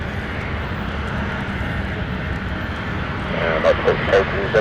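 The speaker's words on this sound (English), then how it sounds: "This is the Amsterdam flight." British Airways jet on the Amsterdam flight at a misty London City Airport, a steady broadband engine roar that swells slightly toward the end, heard from a distance with a voice talking over it.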